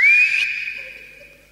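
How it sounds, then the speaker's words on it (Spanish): A single short, sharp human whistle, loud and close, holding a steady high pitch that fades slowly over about a second and a half with no talking. "yo le voy a pegar un silbidito al sombrero"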